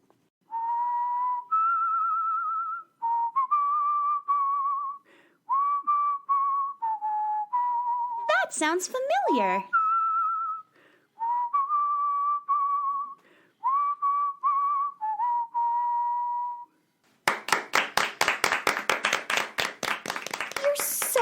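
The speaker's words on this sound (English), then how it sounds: "You're so good at whistling?" Someone whistles a melody nearby in clear, sustained phrases with slides and trills. A brief spoken remark comes before a burst of hand clapping at the end.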